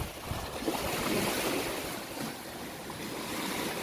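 Sea surf washing steadily onto a beach in Leyte, with a continuous broadband roar of breaking waves and some wind buffeting the microphone, no voices.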